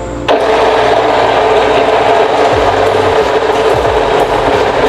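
A WPM Wellhome grinder starts up and grinds espresso coffee beans, a loud, steady whirring buzz that kicks in abruptly and runs without pause to the end, with faint clicks underneath.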